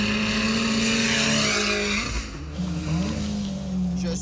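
Subaru LP400R race car with reopened exhausts, the engine droning loud and close with a steady tone, dipping briefly before climbing again as it drives hard.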